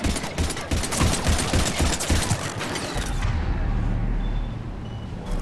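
Gunfire in a Mass Effect 3 firefight: dense rapid bursts of automatic shots for about three seconds, then a sustained low rumble with scattered faint sharp cracks.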